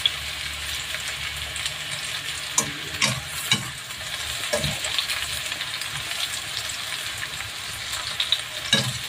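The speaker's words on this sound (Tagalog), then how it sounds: "Para igisa natin yung ibang ingredients guys para maluto ko na." Ingredients for a pork and eggplant dish sautéing in a hot pan, a steady loud sizzle with occasional scraping and stirring knocks throughout.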